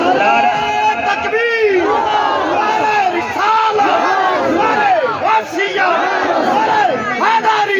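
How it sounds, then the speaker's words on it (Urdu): A large crowd at a religious gathering chants slogans in loud, rhythmic unison in answer to a leader's call, the voices rising and falling together for several seconds. "ہن ایک دفعہ پھر نعرے دا جواب دیو"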